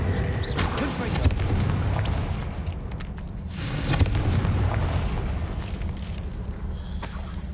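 Confringo fire-blast spell explosions in Hogwarts Legacy, a dense stream of booming bursts rolling through the whole stretch with someone talking over the combat.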